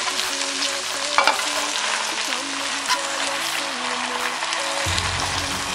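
Water spinach (kangkong) stir-fried with oyster sauce: a continuous close sizzle with a few sharper scraping and clattering moments, and a low rumbling shift near the end, with no talking.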